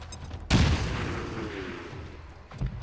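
A grenade blast in XCOM 2 Long War of the Chosen hits hard at about half a second, then a long roaring decay follows, with a second smaller thump near the end. No one speaks.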